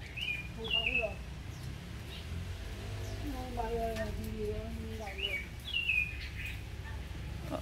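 Outdoor calls of a white-breasted waterhen: high chirping notes early and late, with a series of lower repeated calling notes in the middle, moderately distant over steady background noise.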